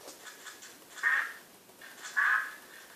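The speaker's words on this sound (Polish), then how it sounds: "Zobaczcie, kaczkę dodaję" Two separate nasal quacks from a duck in Minecraft, each about half a second long, over a faint steady background with nothing else in between.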